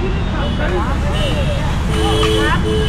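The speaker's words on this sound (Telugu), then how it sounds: "ఇది ట్రాఫిక్ జోన్ కాబట్టి ఎక్కువ నాయిస్ ఉంటుంది" Busy street traffic at a roadside food cart forms a loud, constant rumble of engines and road noise, with people talking over it throughout.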